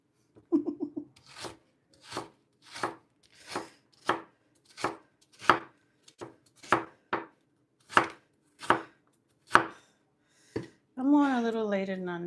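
A knife chops celery on a cutting board in about a dozen crisp, evenly spaced, close strikes, preceded by a short quick flurry of cuts, with a voice starting at the very end.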